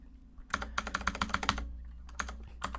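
Fingers tapping on a computer keyboard, giving a quick run of about a dozen crisp, close key clicks followed by a couple of isolated presses in a quiet room.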